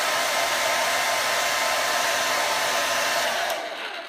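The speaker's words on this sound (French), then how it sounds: "Vous prenez un sèche-cheveux, tout simplement. Vous le mettez à chaud en dessous des cils." A hair dryer set to hot blows a steady, loud rushing whoosh under eyelashes, holding constant for about three and a half seconds before it is switched off and the roar dies away.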